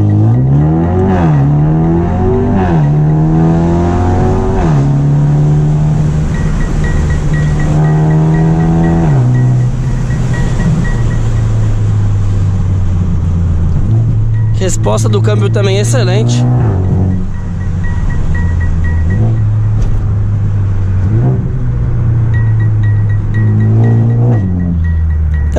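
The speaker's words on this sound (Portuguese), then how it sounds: "O ronco do carro está muito gostoso, não enjoa." A Mercedes A35 AMG with a 400 hp Stage 2 remap and downpipe roars loudly, climbing in pitch through repeated gear shifts as it accelerates, with someone talking over the noise.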